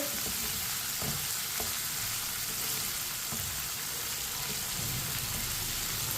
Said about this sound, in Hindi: इसी तरह चम्मच चलाते हुए पकाएं।